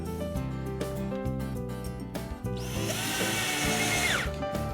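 A power drill drives screws into a louvered shutter hinge in short whirring bursts that rise and slow, ending in one longer, higher spin as the last screw seats, close and loud with no speech.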